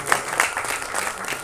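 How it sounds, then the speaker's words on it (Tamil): Audience applause for a guest called to the stage at a film directors' club album song screening festival, a brief burst of dense clapping from a crowd filling the hall. "ஒரு பெரிய கைத்தட்டல் கொடுத்துடலாம் ப்ளீஸ்."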